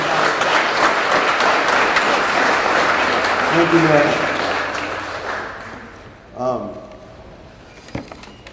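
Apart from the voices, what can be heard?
audience applause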